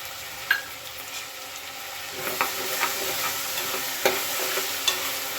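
Tomato fries and is stirred in a pan while cooking a village-style avarekalu pulao, with a steady soft sizzle and occasional scraping strokes of a spoon, close and alone.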